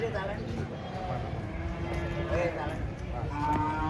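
Giant Limousin cattle moo while being unloaded from a fully loaded truck in a noisy outdoor setting, with people talking and shouting over the animals throughout.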